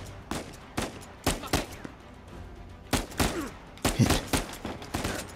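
Gunfire in the video game Uncharted 4: a rapid series of sharp, loud shots in irregular bursts, with a brief spoken word in between.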